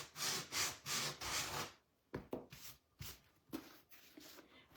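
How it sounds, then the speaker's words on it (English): A small hand sander is rubbed over a wooden book box to distress its edges, giving several broad, raspy strokes in a steady rhythm, followed by a pause and then shorter, lighter scrubbing passes close by. "I'm going to take my little hand sander dealie and sand a little bit off back where it would be worn"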